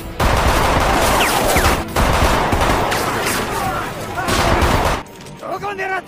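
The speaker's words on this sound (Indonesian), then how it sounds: "para penembak dari prajurit Kiyomasa malah menembak sembarangan sehingga mengenai beberapa pembunuh bayaran" Soldiers fire muskets in ragged volleys of dense, overlapping loud shots that keep going for about five seconds, then give way to quieter scattered noise.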